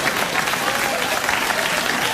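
A late-night TV studio audience applauds in a steady, dense wash of clapping that holds at an even level from start to finish.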